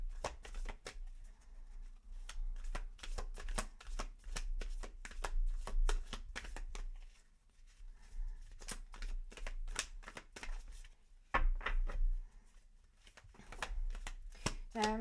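A dark crystal tarot deck is shuffled by hand for about fifteen seconds, a steady run of close, crisp card flutters and riffles with a brief lull partway through before the shuffling picks up again.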